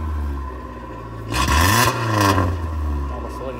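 A car engine with a leaking muffler idles with a deep rumble, then revs up once and eases back down, its exhaust sounding raspy and loud.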